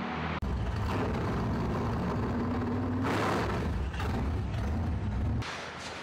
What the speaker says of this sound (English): You'll probably hear some traffic.